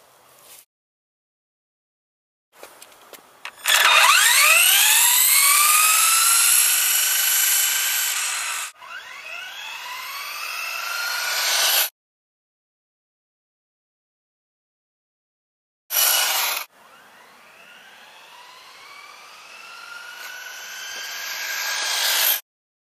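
A brushless RC short course truck powered by a Venom 3300 mAh 6-cell NiMH battery speeds away twice, each run a rising electric whine that swells loud and then cuts off abruptly.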